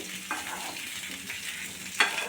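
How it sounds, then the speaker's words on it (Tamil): Onions sautéing in a pan over a low flame, a soft continuous sizzle with a few scraping stirs of the spoon, the last one sharper, no talking. "சிம்மிலே வச்சு அப்படியே கிண்டி விட்டுட்டே இருங்க"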